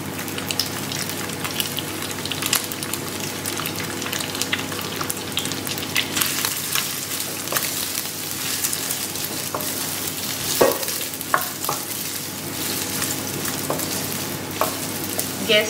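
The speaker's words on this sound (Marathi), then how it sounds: "आता आमी काईस भाजया." Pork pieces for Goan sorpotel fry in a pan with continuous crackling sizzle and scattered sharp pops, close and fairly loud throughout, with no talking.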